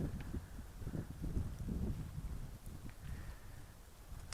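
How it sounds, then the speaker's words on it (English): Gusty wind buffets the microphone at a snowy backcountry camp on the Chorro Grande Trail in Los Padres, producing low irregular rumbling gusts under a faint steady hiss, with no speech. "It is getting pretty windy"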